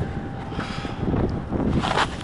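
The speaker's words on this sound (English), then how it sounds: "It's really windy up here" Strong wind buffets the microphone at Denver International Airport, rough low rumbling gusts that swell and fade unevenly over a couple of seconds, close and loud, with no voices.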